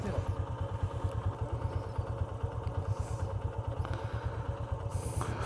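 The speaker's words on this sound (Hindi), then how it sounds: "बाइक ही स्टार्ट नहीं हो रही अब तो," An off-road motorcycle engine sputters and chugs in an uneven rhythmic putter as it struggles to start in the Gorakh Hills, Sindh, loud and close, with no one speaking.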